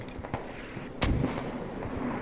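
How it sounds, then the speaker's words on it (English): Heavy artillery barrage in the video game Squad, sounding as loud booming impacts: a few sharp early cracks, then a big blast about a second in, followed by rumbling echo. "here comes that heavy artillery barrage"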